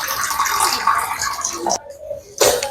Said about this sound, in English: So I'll be adding hot water to this.